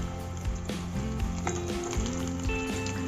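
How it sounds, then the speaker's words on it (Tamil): Tea-shop style kara bonda deep-frying in a pan of hot oil, a loud, continuous bubbling sizzle heard up close, with a few clinks from handling, and no one speaking. "அந்த போண்டா மேலாம் நல்லா படுற மாதிரி பொறிச்சு எடுத்துக்கலாம்"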